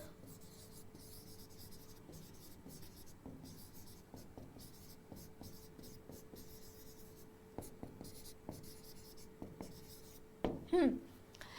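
Chalk or marker scratches out a sentence on a board in a quiet classroom, with light tapping and scraping strokes spaced unevenly throughout and a short burst of voice near the end.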